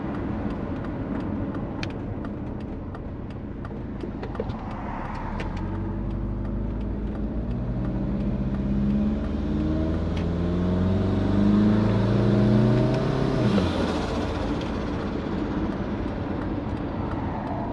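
Turbocharged Subaru engine with a big turbo revving steadily, rising harmonic tones climbing and falling near the end, continuous and close with no talking.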